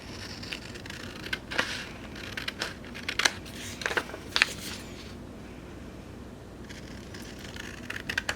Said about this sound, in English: Actually, this I can just use scissors.